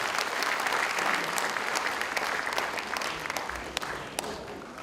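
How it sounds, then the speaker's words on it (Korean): Sustained applause fills a hall at a school's 90th anniversary ceremony as fourteen merit award recipients are honored, dense steady clapping from a large audience throughout. "공로상을 수상하신 14분께 다시 한번 축하의 박수를 보내주시기 바랍니다"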